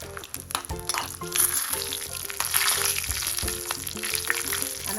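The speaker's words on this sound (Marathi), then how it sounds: "थोडंसं जिरं हिंग घालूया थोडा आणि दोन लाल मिरच्या तडक्यामध्ये छान आपण तुपामध्ये करून घेऊ" Cumin, asafoetida and two red chillies sizzle hard in ghee for a tadka, a loud, steady spitting crackle with stirring clinks close by and no voices.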